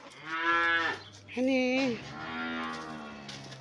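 Cows and calves moo out in a green pasture, with several long, loud, close bellows in turn, one after another. A person speaks briefly between the calls.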